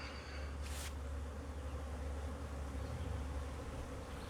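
A calm honeybee colony on hive frames gives off a steady close buzzing drone with a low hum underneath, continuous and even throughout with no voices.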